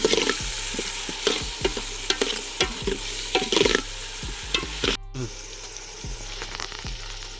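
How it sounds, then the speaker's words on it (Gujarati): Turmeric being stirred into gunda (Cordia fruit) vegetable frying in a pan: repeated spoon scrapes and clinks over a steady oily sizzle, close and fairly loud, with a brief dropout partway through. "હવે નાખી દઉં આ પીળી પીળી હળદર આમાં હલાવશું"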